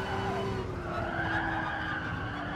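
A race car in Gran Turismo Sport skids and slides through a corner, producing a steady, loud scrubbing tire noise over a sustained engine drone, with no voices.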